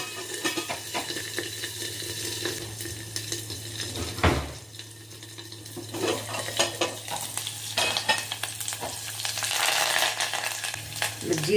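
Mustard seeds, curry leaves and green chillies crackle and sizzle in hot oil, a loud continuous frying hiss with stirring scrapes and one sharp clank of a pan partway through.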